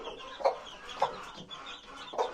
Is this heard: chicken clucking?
yes